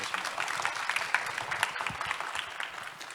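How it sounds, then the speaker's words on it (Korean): Audience applause at a business talk event welcoming a GS Retail executive, a steady wash of many hands clapping at moderate volume with a few sharper claps, tapering slightly toward the end. "큰 박수로 환영해 주십시오"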